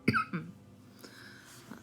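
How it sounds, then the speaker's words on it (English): A single person coughs twice in quick succession, close and fairly loud, followed by quiet breathy throat sounds and faint room noise. "I'm going to cough"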